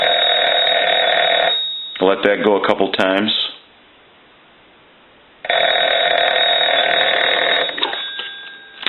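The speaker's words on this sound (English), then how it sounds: "We'll ring the phone." A repaired Spirit of St. Louis field telephone rings loudly with a continuous buzzing bell in two long bursts separated by a short silence. Someone speaks briefly between the rings.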